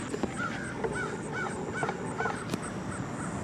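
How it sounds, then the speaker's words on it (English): A crow caws outdoors in a quick series of about five or six harsh calls. The calls are moderately near and sit over a steady wash of background noise. "That's a crow right there, by the way."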